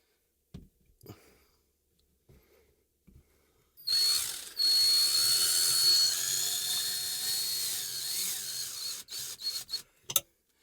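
A power drill drives small screws into a cable hanger bracket in a workshop. After a few quiet taps, it whirs in one sustained high-pitched run of several seconds, followed by short bursts and clicks.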